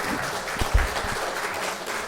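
An auditorium audience claps for two guest speakers at the close of a KIST alumni lecture, moderate steady applause with a few sharper individual claps standing out near the start.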